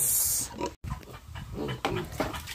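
A pig grunts and snuffles at feeding time with irregular, close, fairly loud grunts, alone without talk.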